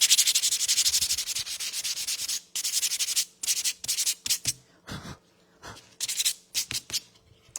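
Sandpaper rubs back and forth over a painted wooden oar, stripping paint in quick, close strokes that come in bursts with brief pauses between them.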